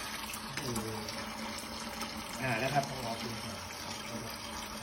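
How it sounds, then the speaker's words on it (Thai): Water rushes through a normally closed solenoid valve once power opens it, a steady hissing flow that swells briefly in the middle while someone talks over it. "แต่ถ้าผมจ่ายไฟเข้ามาเมื่อไหร่นะครับ อ่าวาล์วก็จะเปิดให้น้ำไหลผ่านทันที"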